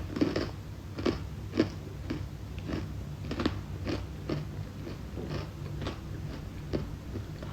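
Someone eating and chewing food close to the mic, with steady rhythmic crunchy bites repeating roughly every half second over a low background hum.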